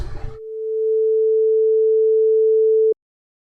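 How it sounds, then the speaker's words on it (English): Single sustained sine-like synth note from ZynAddSubFX with a slow attack, swelling gradually from quiet to full level over about a second, holding steady, then cutting off abruptly. "what attack will do is it'll make the sound ramp up over time"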